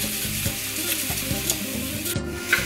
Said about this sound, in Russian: вот мы и положили лучок, чтобы он обжаривался